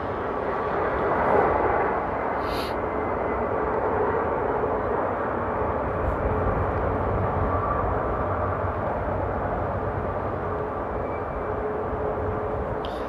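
An airliner lands at Amsterdam Airport in windy conditions, its jet roar a broad, continuous rush heard from a distance and holding steady throughout, with gusting wind noise blended in.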